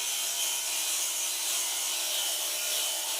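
A radial bristle brush with 80 grit abrasive strips coating from a metal part, giving a steady, close, even scrubbing hiss that runs without a break, with no voices.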